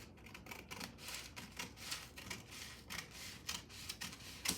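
Scissors snip through paper for a yoke skirt pattern in a quiet room, with a series of close, soft, crisp cuts repeating irregularly.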